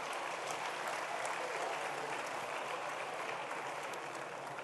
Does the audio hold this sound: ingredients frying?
no